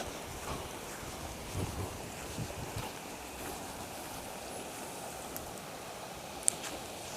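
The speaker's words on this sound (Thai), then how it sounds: "ฟังเสียงน้ำไหล" Water flowing past a riverside resort during the low-water season, a soft, steady rush kept low and even, with light wind buffeting the microphone and no voices.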